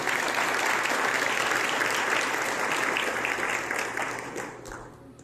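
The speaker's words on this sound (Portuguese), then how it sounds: "Uma salva de palmas para a palavra do Senhor." A congregation at a Catholic gathering claps in a steady, full round of applause that thins out and tapers off toward the end.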